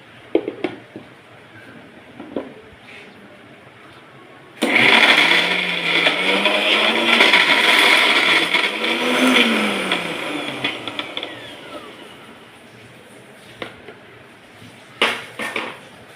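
A mixer grinder whirs loudly as it grinds sesame seeds for a powder, starting abruptly after quiet handling sounds, its motor pitch wavering for several seconds before cutting off, followed by a few clinks.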